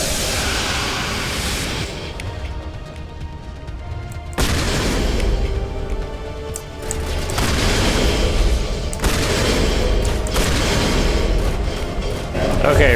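Shotgun blasts in the sci-fi game Mass Effect 1 during a firefight: several loud, heavy booms at irregular intervals amid combat noise, with a voice talking over parts of it.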